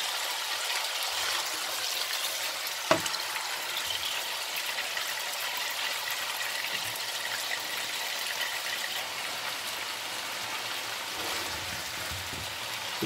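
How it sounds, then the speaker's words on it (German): Boneless chicken breast cut into long strips fries in a pan, giving a steady, fairly loud sizzle like rain that holds evenly throughout, with one brief knock near the start. "Hähnchen kann sie so lange braten, also bis die bisschen Farbe ändern, so golden wäre."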